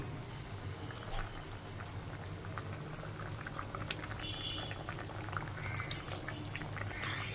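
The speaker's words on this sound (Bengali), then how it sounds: "তো দেখো এটা ফুটে গেছে" Hilsa fish and eggplant curry bubbles at a low simmer in a pot on a gas stove, a faint continuous boil with small pops and crackles and no talking.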